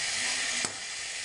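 Garlic sizzles in a pan for a Chinese chicken stir fry, a steady bright hiss with one brief clatter partway through.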